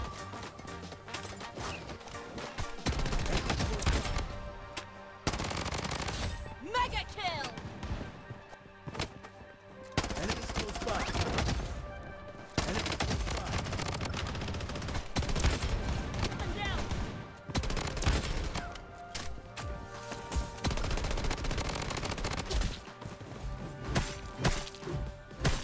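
A turret in the shooter Bloodstrike fires repeatedly amid loud crashes and impacts, in choppy bursts with short gaps, while someone talks over the noise.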